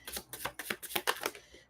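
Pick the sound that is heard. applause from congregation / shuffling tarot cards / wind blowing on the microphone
shuffling tarot cards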